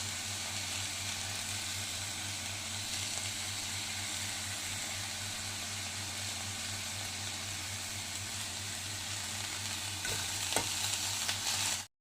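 Continuous sizzling of garlic and a broken dried red chili frying in hot oil, steady and close, with a low hum beneath and a couple of faint clicks near the end.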